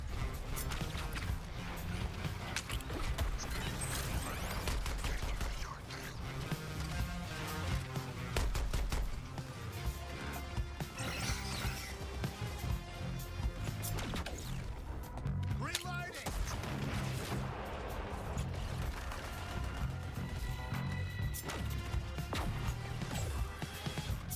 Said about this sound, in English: Suppress the Earthlings with artillery.